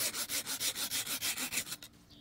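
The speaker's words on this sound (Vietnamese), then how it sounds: "em đi test cưa và các bác mình xem một chiếc cưa lọng rất chi là nhỏ đây" A very small, sharp coping saw cuts through a decayed, insect-damaged tree branch, giving about a dozen quick rhythmic rasping strokes close to the microphone before stopping.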